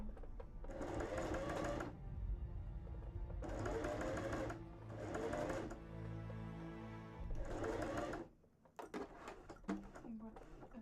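A small home sewing machine stitches through thick layers of undershirt fabric for a cosplay costume, running in several loud sustained bursts with pauses between, then stopping near the end.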